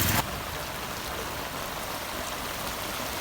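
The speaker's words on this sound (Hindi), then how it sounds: "सावन की दूसरी मूसलाधार बारिश" Heavy monsoon downpour in August, a dense, steady hiss of rain pouring onto surfaces, loud and unbroken throughout.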